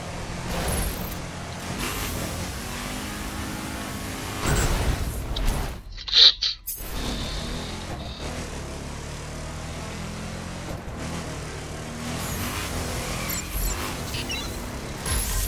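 A car driving at speed in The Crew racing game, with a steady engine and road roar throughout, a brief dip and a sharp whoosh partway through, then the drive continues at a constant level.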